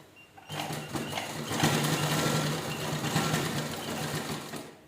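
A sewing machine runs steadily for several seconds, stitching a bag made from an old shirt, a close, even mechanical whir that starts after a brief quiet moment.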